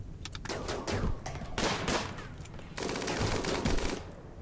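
Video game gunfire in a RimWorld firefight, dense overlapping rifle and machine-gun bursts in several sustained volleys with brief gaps, loud and busy.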